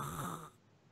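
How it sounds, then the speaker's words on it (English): A person snoring, one loud rasping snore with light wheezing in the first half, then dropping to quiet breathing and near silence. "I thought I would snore louder than this."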